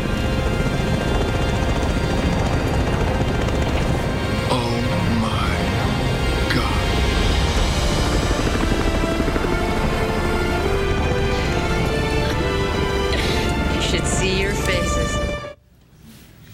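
A helicopter drones loudly and continuously with a dense rotor roar in a TV studio setting, muffled voices faintly beneath it, before cutting out abruptly near the end.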